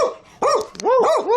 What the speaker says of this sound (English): You don't have to keep barking.